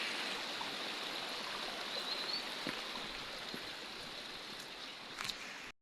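A river in the hills flows steadily over rocks after rain. Its constant, fairly quiet rushing stays even throughout, with a few faint splashes and drips and no voices.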